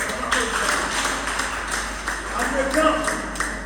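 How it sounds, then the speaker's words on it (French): A church congregation claps together in a continuous, steady patter that runs through the whole stretch, with voices and singing carrying over it. "On applaudit, on applaudit."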